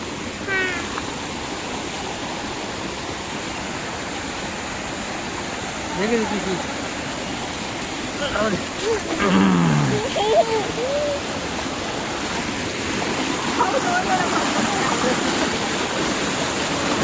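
A steady broadband rush of falling water from the Machi waterfall runs throughout, with a person talking faintly at moments over the constant roar.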